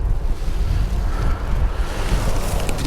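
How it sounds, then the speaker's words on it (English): Strong gusty wind high above Kamloops Lake rumbling across the microphone with a steady roar like surf underneath, continuous and loud, no voices. "It's pretty windy"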